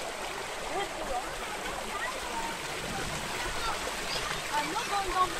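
Small trickling stream of water running over rocks beside a walking trail in the Swiss Alps near Leukerbad, a steady broadband rush close by with a voice talking over it.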